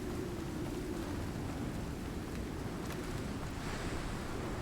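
Howling storm wind and crashing waves on an alien planet in a survival video game, a steady, loud roar with dense low rumble that holds evenly throughout with no talk.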